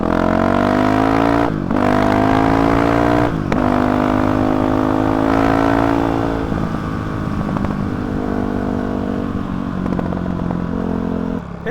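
A Honda CRF 450 RL dirt bike runs with a Graves exhaust and no end cap, loud and close, revving in sharp bursts with quick throttle blips before settling into a rough, throbbing idle.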